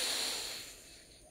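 A single deep inhalation during a guided breathing exercise, an airy hiss that swells at the start and gradually fades, ending with a few soft clicks.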